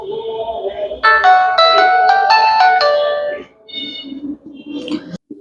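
A Symphony S70 mobile phone plays its start-up tune when switched on: a loud, bright electronic melody of stepped notes lasting a few seconds, followed by a short softer chime.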